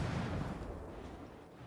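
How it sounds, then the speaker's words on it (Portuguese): An explosion in the video game Ghost Recon Wildlands booms in a brief, heavy, low-rumbling burst that fades away over a second or so. "Aquela explosão os deixou desconfiados."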